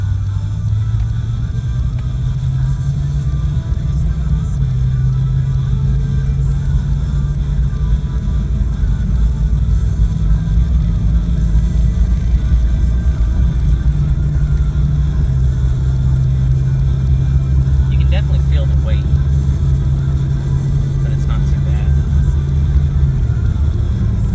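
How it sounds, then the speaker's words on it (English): A Jeep Grand Cherokee ZJ fitted with a 4-inch Rough Country X-flex lift kit and larger tires drives steadily, its engine and road rumble droning loud and close throughout, with a faint rattle partway through and no voices. "I want to take it for a test drive"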